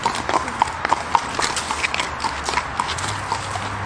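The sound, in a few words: horses walking, hooves clip-clopping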